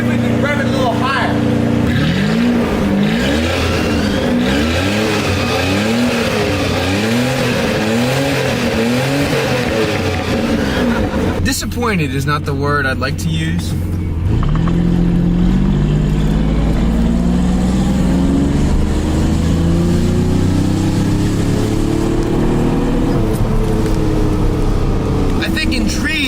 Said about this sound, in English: I'm gonna let it warm up, see if we can rev it a little higher.